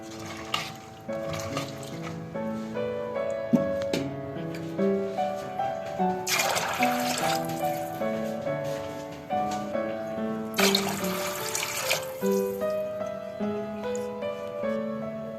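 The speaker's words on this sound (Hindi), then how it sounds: "ये देखें पानी मैंने इसमें ज्यादा डाल दिया।" Water is poured into a pressure cooker of soaked white chickpeas, heard as two short rushing bursts over steady background music, with no talking.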